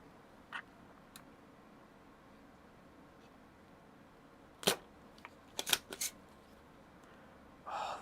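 Desoldering pump on a Macintosh SE repair bench snapping off in a few sharp, separate clicks and spring cracks, spaced irregularly against a quiet room hum.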